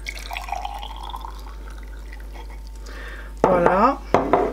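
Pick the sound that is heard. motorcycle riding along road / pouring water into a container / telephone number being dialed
pouring water into a container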